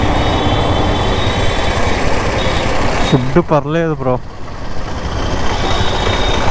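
A train rolls past a railway gate in steady, loud, continuous rumble, with a brief horn-like tonal blast in the middle; someone talks over it.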